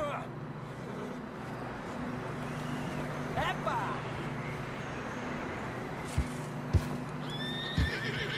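In Red Dead Redemption 2, a horse whinnies faintly while hooves clop now and then over a steady low rumble, with a few sharper thuds toward the end.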